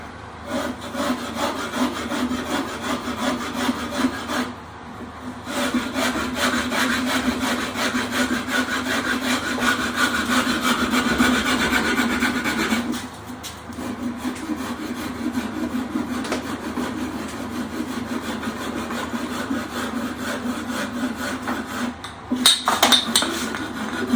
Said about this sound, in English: then I'll just take the dragon rasp and connect those lines